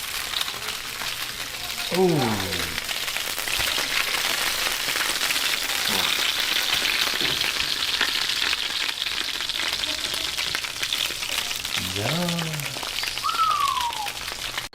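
Stuffed flounder sizzles in an oven, giving a continuous crackling, rain-like fry hiss throughout. A voice briefly exclaims once and a few faint squeaky sounds come through over the steady sizzle.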